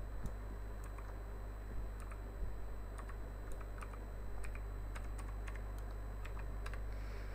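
A password is typed on a computer keyboard: soft, scattered key clicks in an irregular rhythm, close but quiet, over a low steady hum.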